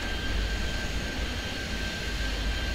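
Airplanes on go-arounds in the airport game Airport Madness 3D at London City: a steady, moderately quiet jet engine drone with a thin high whine running through it, no voices.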